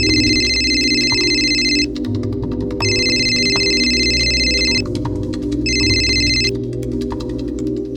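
A telephone rings after a call is dialed. Three electronic ring bursts come with short pauses between them over a low background hum, and nobody talks.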